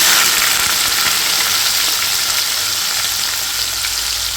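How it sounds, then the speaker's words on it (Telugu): Chopped spring onions frying in well-heated oil in a pan, a loud, dense, steady hiss of sizzling held throughout without pause. "ఆయిల్ హీట్ ఎక్కిపోయింది బాగా కాగిపోయింది ఇప్పుడు దీనిలో మనము ఆల్రెడీ స్ప్రింగ్ ఆనియన్స్ కట్ చేసుకున్నాం కదండి అవి వేసేసుకున్నాం"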